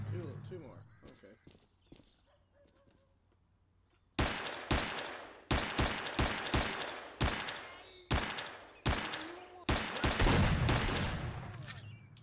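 Gunfire in the shooter game S.T.A.L.K.E.R.: Clear Sky: after a few quiet seconds, a run of loud, sharp shots cracks out in irregular single and double bursts, close and dominant, with a voice talking in places.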